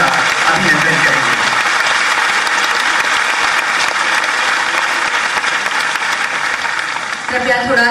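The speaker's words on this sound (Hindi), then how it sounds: "एक बार पुनः जोरदार तालियों से सभी अतिथियों का अभिनंदन करेंगे" An audience at a guest scholars' conference in Bhopal applauds loudly to welcome the guests, a dense, sustained clapping that fills the whole stretch and eases off slightly near the end.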